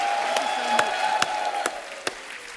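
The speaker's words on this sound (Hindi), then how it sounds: "जोरदार तालियां एक बार कमल सर के लिए" A crowd claps and cheers continuously, a dense wash of applause under a sustained tone, with a few sharper claps standing out at regular intervals.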